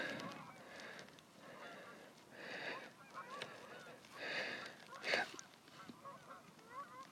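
Out on an island, a flock of geese honks in repeated faint bursts from some distance, the calls rising and falling in loose clusters over a quiet background with no talking.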